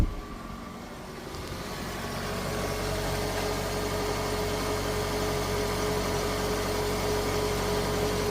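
Old Vauxhall Zafira car engine idling steadily up close, a continuous low hum with a faint whine that settles into an even drone after starting.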